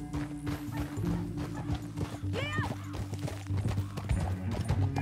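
Horse hooves in Red Dead Redemption 2, rhythmic clip-clop of a riding horse over a steady low game drone, with a brief whinny-like call in the middle.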